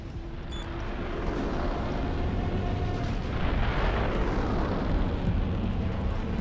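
An artillery strike in the video game Armored Core 6 unleashes a sustained rumbling roar of explosions, a loud continuous wash of blasts with a brief high tone near the start, no talking.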